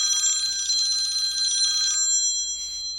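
A telephone rings in a bright, continuous burst for about two seconds during a live online lesson, loud and alone with no talking over it.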